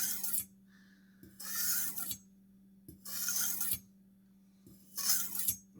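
A kitchen knife is drawn across a whetstone in long, even, gritty scraping strokes, three clear passes with short pauses between them, close and fairly quiet, with no voices.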